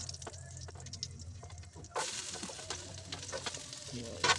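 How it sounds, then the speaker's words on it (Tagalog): Garlic sautéing in cooking oil in a pan, a steady close sizzle with stirring clinks, rising suddenly louder halfway through as the garlic hits the hot oil, with no talk. "First, lagyan natin ng mantika puno. Then, gisa-gisa ng bawang."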